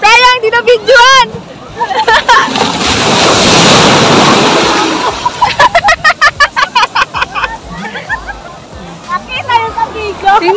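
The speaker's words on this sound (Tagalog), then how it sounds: "Medyo malakas na yung alon." Strong ocean surf at Bernabe Beach Resort in Nasugbu, Batangas washes in as a broad, swelling roar that builds and fades over several seconds, with people talking and laughing excitedly over it before and after the surge.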